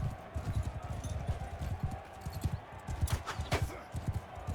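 Rapid, steady hoofbeats of a galloping horse in the medieval combat video game Mount & Blade 2: Bannerlord, a close, continuous pounding rhythm with a brief brighter clatter partway through.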